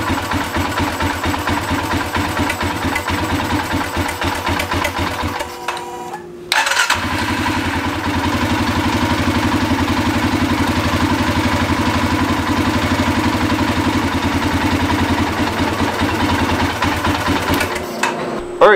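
An engine idles loudly and up close with a fast, rough, rhythmic chug after a fuel pump replacement. It briefly drops out and restarts midway, then settles back into a steady idle, with no talking.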